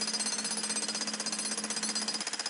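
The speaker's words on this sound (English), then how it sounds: "eventually this concrete will crack. But it does take some effort to do it, even with the jackhammer." A jackhammer pounds into thick concrete of a channel drain apron, a rapid, steady rattling hammer beat sustained throughout, loud and close with no talking over it.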